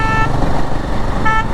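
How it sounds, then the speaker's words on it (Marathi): A car coming up from behind on a busy highway sounds two short horn toots, one at the start and one near the end, over steady road and traffic noise heard from a motorcycle. "आणि मागून एक गाडी येते, पाहू शकता."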